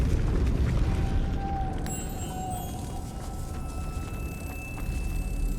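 A Lumos spell being cast in the video game Hogwarts Legacy: sustained shimmering, ringing tones rise over a steady low rumble and hold for several seconds, fairly close and alone.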